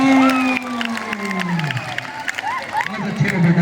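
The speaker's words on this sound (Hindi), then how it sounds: "जोर से ताली बजाओ" A school audience at a drug-awareness talk in India claps and cheers for a child asked to stand, a dense crowd noise with babble continuing throughout.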